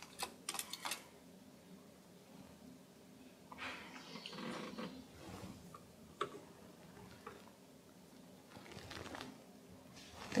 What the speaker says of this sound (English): So I'm going to crank a little further.